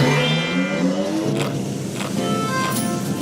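Cartoon toy cars start up as they begin work rebuilding a railway, their engines giving a continuous, fairly loud motor drone with rising revving tones and no talk.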